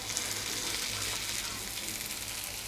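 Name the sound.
lady fish frying in coconut oil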